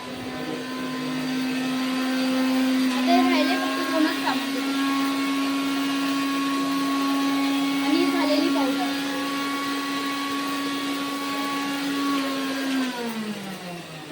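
A kitchen mixer grinds green chilies with salt into a dry powder, giving a loud, steady motor whine that runs for about twelve seconds before winding down at the end.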